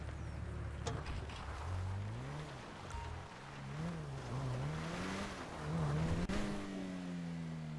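A car driven in Grand Theft Auto V Online, its engine droning steadily and rising and falling in pitch as it revs and shifts, loud and close with a brief knock partway through and no talking.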